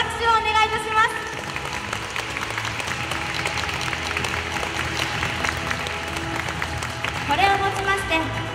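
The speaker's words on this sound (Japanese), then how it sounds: "今一度大きな拍手をお願いいたします" Audience applause after the Heilongwushu troupe's acrobatic chair-balancing stage show at Marina Town fills the space in a dense, steady wash of clapping, with tonal sounds ringing through at the start and near the end.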